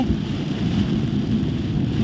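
Heavy rain drums steadily on a car driving near Saraburi, a dense, constant roar of water and road noise with no pauses.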